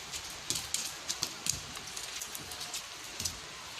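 Rain falling as the only accompaniment to a dancer, a faint steady patter dotted with sharp, scattered drop clicks.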